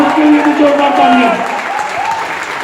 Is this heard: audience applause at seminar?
yes